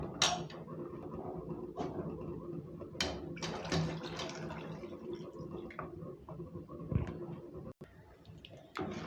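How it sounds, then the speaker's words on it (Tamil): Water poured into a pot of Tamil fish curry (meen kuzhambu) with tamarind water, a near, steady splashing pour with liquid trickling and dripping over several seconds. "இப்போ தேவைக்கு தண்ணி சேர்த்துக்கலாம்."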